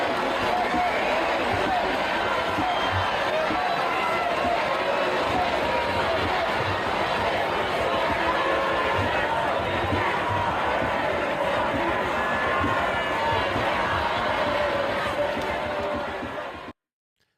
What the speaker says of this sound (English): Here is later that night the celebration in the streets.